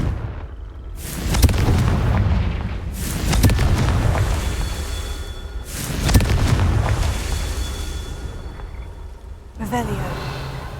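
Confringo blasting spell explosions in Hogwarts Legacy, several heavy booming blasts a few seconds apart, each rumbling and fading, with a voice speaking between them.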